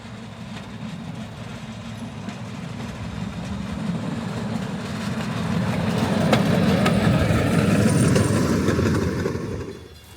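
Puffing Billy steam train rolling past, its rumble and wheel clatter swelling louder partway through before easing off at the end.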